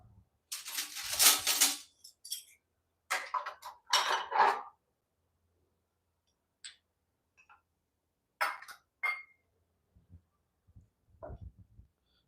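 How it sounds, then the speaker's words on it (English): A spoon is fetched from among other cutlery, giving several quiet, sharp metallic clinks and rattles in short clusters separated by silent pauses, with small knocks toward the end. "Let me get a spoon."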